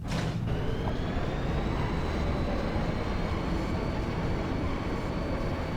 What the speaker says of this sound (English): This train, bound for Delling City, will be departing shortly.